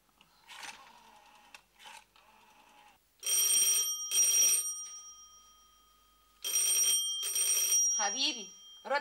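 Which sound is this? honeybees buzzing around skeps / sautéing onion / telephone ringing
telephone ringing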